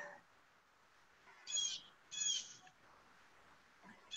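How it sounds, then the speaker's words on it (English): A pet bird chirps in the background of a video call, two short bright bursts of tweeting a half second apart, then a faint call near the end, with light room noise. "Who has a bird tweeting in the background?"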